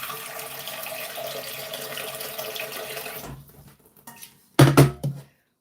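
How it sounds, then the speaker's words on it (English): Tap water runs into a cooking pan in a steady splashing stream, then cuts off, followed by a few brief clanks and sloshes of the pan being handled. "So first let me get some water in the pan."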